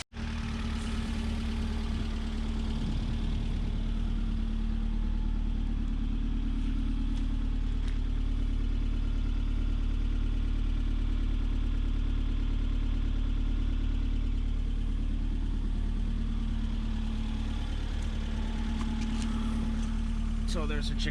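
A rebuilt Mazda Miata engine with a new head gasket idles steadily up close, a constant low rumble with a firm hum and no breaks for the whole stretch.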